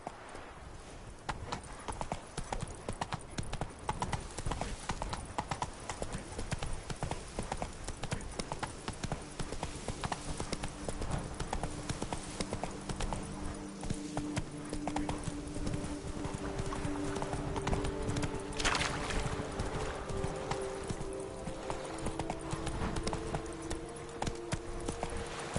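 A horse gallops in The Witcher video game: a steady, fast clip-clop of hooves runs throughout with a brief whinny in the middle, over a faint game background.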